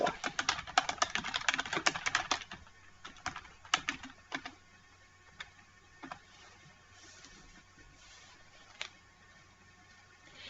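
Typing on a computer keyboard to enter a chart title, with rapid clustered keystrokes at first that thin out into sparse, isolated clicks, close and fairly quiet.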